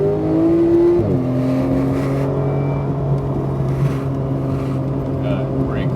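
A Porsche 911 GT3 engine at full throttle on a racetrack, revving high and loud, dropping sharply on a gear change, then climbing again close to the microphone.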